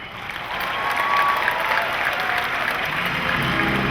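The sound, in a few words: audience applause at Comic Con panel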